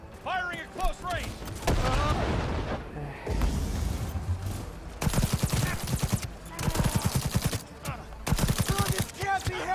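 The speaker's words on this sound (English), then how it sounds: "Firing at close range!" Close-range gunfire in the Cyberpunk 2077 video game, with rapid bursts of loud shots mixed with mechanical clatter and a voice talking over parts of it.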